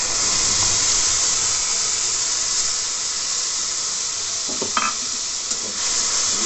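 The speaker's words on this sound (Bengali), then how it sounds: "সর্ষে আর হলুদ একসঙ্গে করে এবার আমি দিয়ে দেবো" Mustard and turmeric paste hits hot oil with chillies, giving a loud, continuous hiss and sizzle close by, broken late by a couple of brief clinks from the pan.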